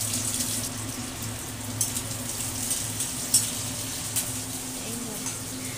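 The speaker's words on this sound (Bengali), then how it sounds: "মা এখন পেঁয়াজ ভাজছে।" Chopped onions frying in oil with nigella seeds and dried red chillies make a continuous, even hiss at moderate distance, with occasional faint pops and clicks.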